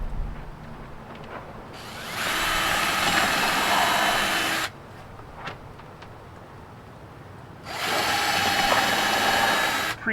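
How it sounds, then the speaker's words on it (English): A power drill pre-drills holes in a homemade sluice built for recovering gold from scrap IC chips. It whines in two long, close bursts separated by a quieter pause with light handling noise. "pre-drill these holes"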